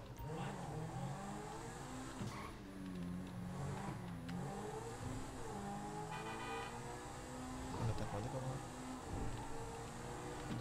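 A Zentorno supercar in GTA 5 accelerates hard, its engine revving loudly and steadily with rising and falling pitch, while a voice talks over it throughout.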